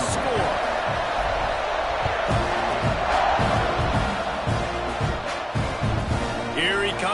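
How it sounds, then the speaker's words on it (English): Football stadium crowd roaring and buzzing after a score as the teams line up for the kickoff, a loud, constant wash of noise with voices talking over it. "this crowd is buzzing after that last score"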